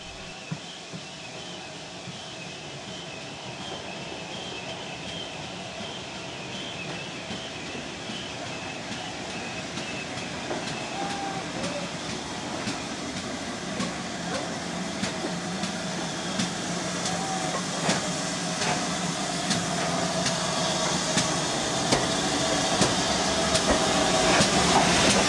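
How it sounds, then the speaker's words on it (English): Steam locomotive 3802 runs along the railway between Oakworth and Keighley, a continuous rumbling roll with steady rhythmic clatter and hiss that grows louder as the train draws closer over about 25 seconds. "3802 is making the return journey back to Keighley, ready for stopping at Oakworth."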